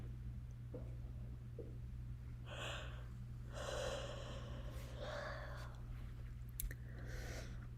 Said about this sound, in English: The little puppy snores that you hear in the background are our mascot, Maui